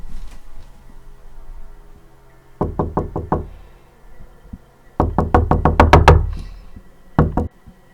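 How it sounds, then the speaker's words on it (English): Knocking on a door: a quick group of four knocks, then a longer burst of rapid raps and a final pair, crisp and close against a quiet background. "President Truman was awoken in the night by the sound of knocking"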